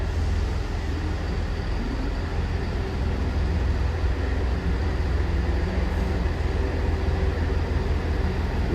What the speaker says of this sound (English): Train now departing is 158 going to Wigan Moorgate.